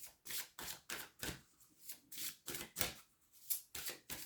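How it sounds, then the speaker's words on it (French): A deck of tarot cards being reshuffled up close, a rapid series of about a dozen crisp riffling bursts in an uneven rhythm, quiet and alone without speech. "Je remélange."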